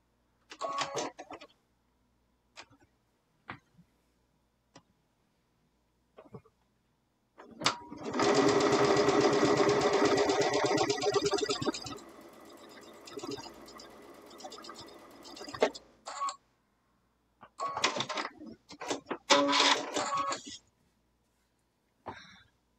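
A sewing machine stitches across pieced quilt fabric in one sustained close run of rapid needle chatter, with short bursts before and after and brief talk and throat sounds between.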